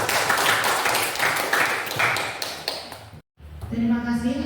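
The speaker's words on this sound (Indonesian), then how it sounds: "Tepuk tangan." Applause in a classroom lesson, a run of close, rapid clapping for about three seconds that cuts off sharply, followed by a voice speaking.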